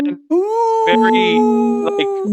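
A person imitates a wolf howl during a Dungeons & Dragons tabletop session, a long rising and falling voiced wail, loud and close, with brief breaks between tones.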